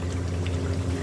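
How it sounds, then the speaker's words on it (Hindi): Water is poured into mutton and potato koftas in a pressure cooker, a steady close stream running without pause. "अब हम इसमें पानी ऐड करते हैं"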